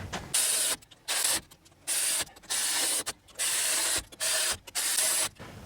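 A ratcheting wrench tightens the axle bolts on a 1977 Ford F250 full-floating axle, in repeated bursts of fast clicking about a second long, separated by short pauses, close up with no voices.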